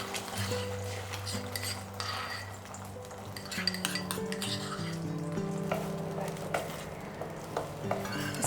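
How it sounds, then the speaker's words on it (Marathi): Ground ginger, dried fenugreek, coriander, cumin and fennel masala sizzles in ghee in a pot, with a steady close frying hiss and repeated metallic clinks and scrapes of a spoon stirring against the vessel. "भांड्यात तूप घेऊन हा मसाला छान परतला"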